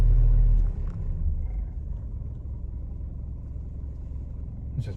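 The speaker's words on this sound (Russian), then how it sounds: "Сейчас машина просто греется." A Mitsubishi Pajero Sport engine idles while warming up, heard as a low, steady rumble from inside the cabin, slightly louder at first and then settling into an even drone.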